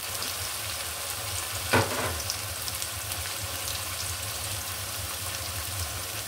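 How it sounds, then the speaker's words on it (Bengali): Chopped onion sizzles and fries in hot oil for a fish head curry with potato, a steady close crackle with one brief stirring scrape partway through and no voices. "এখানে দিয়ে দিচ্ছি বেশ কিছু পেঁয়াজ কুচি"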